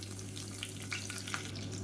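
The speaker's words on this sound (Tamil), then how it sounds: "இப்போ கடுகு எல்லாமே பொரிஞ்சிருச்சு" Mustard seeds crackle and pop in hot cooking oil with cumin and curry leaves, a dense, steady sizzle broken by scattered sharp little pops, close up with no voices.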